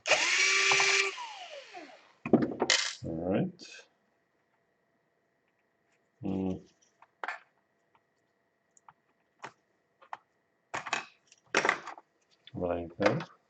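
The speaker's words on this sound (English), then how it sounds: "Now we wanna unscrew this board." A power drill whirs in a short burst to unscrew a circuit board, followed by scattered clicks and handling noises, with someone talking in between.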